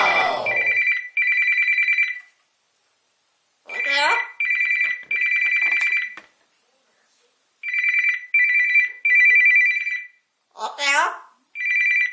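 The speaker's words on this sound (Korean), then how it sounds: "아빠한테 전화 온 거야." A phone ringtone sounds in repeated electronic bursts with pauses between them, loud and close, for an incoming call in a family home with a pet parrot. Chirpy bird calls and voices come through between the rings.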